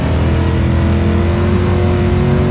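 A car engine in a racing video game drones loudly and steadily as it accelerates, a continuous revving hum with no voices over it.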